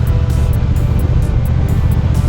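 Triumph Thruxton TFC motorcycle exhaust on a retro cafe-style bike, a loud, close, steady low rumble with regular rhythmic pulses running through the whole stretch, no voices.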